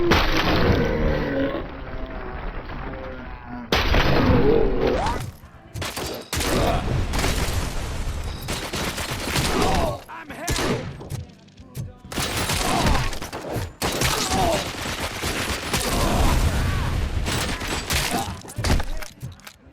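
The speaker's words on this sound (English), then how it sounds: "everything from shotguns that goes like this" Repeated heavy shotgun blasts from a boomer shooter video game, loud booming shots with shattering impacts and crashing debris, firing in quick bursts with brief pauses between volleys.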